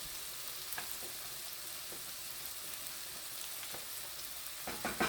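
Pasta sauce with sausage cooks in a pan, a soft continuous sizzle and bubbling broken by occasional scraping clicks of stirring.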